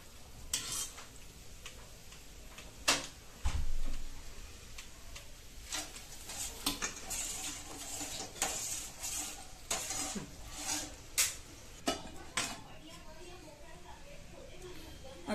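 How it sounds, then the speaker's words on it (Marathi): Boondi being stirred into sugar syrup, with irregular clicks and scrapes of a spoon against a pot over a soft background hiss, and a louder knock partway through. "ती पूर्ण नितळून घेऊन लगेच आपल्याला पाकामध्ये घालायची आहे आणि ती पूर्ण हलवून घ्यायची"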